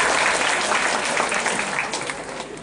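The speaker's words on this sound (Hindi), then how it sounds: "अंकुश के लिए ज्यादा तालियां बजाएं." A workshop audience breaks into steady, dense applause, a close and continuous wash of clapping that holds for the whole stretch before thinning slightly toward the end.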